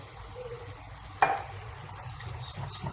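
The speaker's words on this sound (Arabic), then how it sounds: "ونقعد نخلط هكا." A spoon scrapes once through thick béchamel sauce in a pot as milk is stirred in, over a low, steady kitchen hiss with a faint bubbling background.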